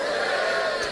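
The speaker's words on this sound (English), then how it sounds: "Give me a cheer, Comedy Store, if you've ever watched the television." Comedy Store audience cheering and whooping together in a dense, sustained roar of crowd noise that stays loud and steady throughout the second, with no individual voice standing out.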